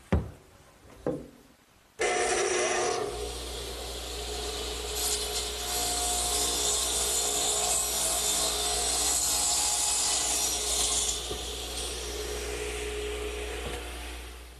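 A power saw makes angled cuts through wooden supports for a garden swing: two short knocks, then a loud, steady cutting roar that runs for about twelve seconds before tapering off, with no talking.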